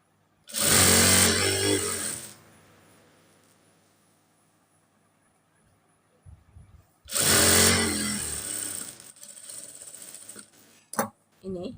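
A sewing machine stitches fabric for a nighty in two loud, fast-running bursts separated by a quiet pause, followed by soft handling noises.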